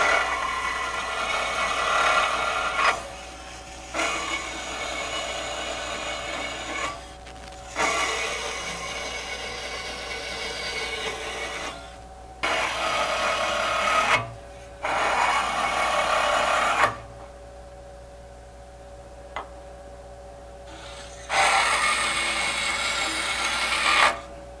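A belt sander with a rough, coarse belt roughs the surface of knife handle scales in about six bursts of harsh, steady grinding, separated by short pauses, loud and close with no talk.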